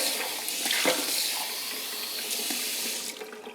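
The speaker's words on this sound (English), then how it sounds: "So I'm gonna go get fresh water in this." A kitchen tap runs fresh water into a container for rinsing plant cuttings, a steady close splashing stream with small gurgles that continues throughout and thins out near the end.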